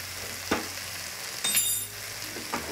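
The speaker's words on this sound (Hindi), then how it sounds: "फ्लेम को फुल करेंगे और इन सबको अच्छे से मिक्स कर लेंगे और 2 seconds हम इसको बस ऐसे ही सॉटे करेंगे" Potato salad ingredients with soy sauce sizzle steadily in a hot pan over full flame, with a few louder stirring scrapes cutting through the constant frying hiss and no talking.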